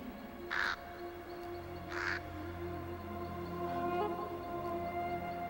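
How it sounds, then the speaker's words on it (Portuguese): A crow caws twice, two separate harsh calls about a second and a half apart, set against a steady low ambient hum. "Um corvo?"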